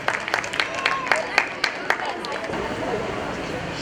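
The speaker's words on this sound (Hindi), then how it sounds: "जोरदार तालियां हो जाए।" Audience at a Jain stage program claps in a burst of sharp, separate hand claps over a murmur of voices, then the clapping fades into softer crowd noise and babble.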